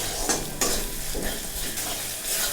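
Masala paste with fennel is stirred and fried in a pan over a low flame, a steady close sizzle broken by scraping stirs.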